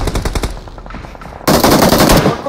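Rapid automatic gunfire during a BGMI battle royale fight, close bursts of quick shots that thin out, then a dense, loud barrage.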